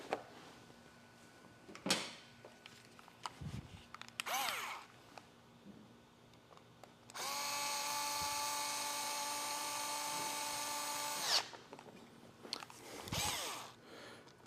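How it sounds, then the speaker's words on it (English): A power drill whines at high speed for a few seconds driving screws while installing motorcycle grips on a Harley-Davidson Road Glide, then stops, with clicks and handling clatter of tools before and after. "There we go, get the drill."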